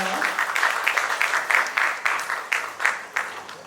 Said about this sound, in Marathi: एकदा जोरदार टाळ्या झालं पाहिजे त्यांच्यासाठी.